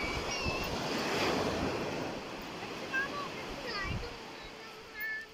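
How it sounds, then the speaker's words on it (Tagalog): Sea waves at Dingalan beach in Aurora, a broad steady surf wash with wind buffeting the microphone, faint bird calls and a few brief thumps over the roar. "Ito na po ang dagat ng Dingalan"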